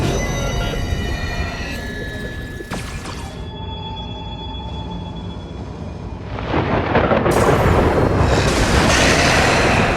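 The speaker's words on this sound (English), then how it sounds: "Is that thunder?" Thunder in the Honkai Star Rail video game, a loud sustained rumble that dips briefly and then swells into a heavier, broader roar.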